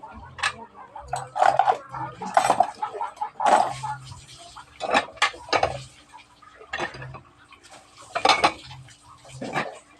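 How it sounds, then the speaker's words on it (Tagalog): Plates being put back and stacked after a fiesta meal: repeated sharp clattering and clinking of dishes in uneven bursts, close and fairly loud, with scattered faint background sounds and no clear talk. "Ako siyang ibalik diri ang mga plato."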